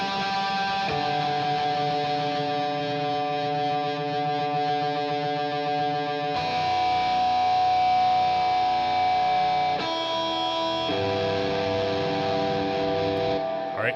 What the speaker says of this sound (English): I'm essentially just hitting some harmonics with a ton of reverb and delay on it in a timing that works with the other layers.